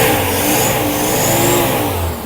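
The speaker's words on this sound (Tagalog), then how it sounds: "Ayan, re-revolution natin." An old 4x4 owner-type Jeep engine with a carburetor revs loudly and steadily up close, a continuous rough mechanical roar that holds level throughout and eases slightly at the very end.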